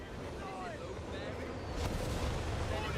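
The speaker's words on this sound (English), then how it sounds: "Nebelwerfer firing." Nebelwerfer rocket artillery in Company of Heroes 3 lets off a faint rushing launch amid a low battlefield rumble, with a heavier broadband burst swelling about halfway through.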